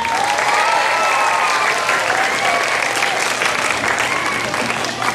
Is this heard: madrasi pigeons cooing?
no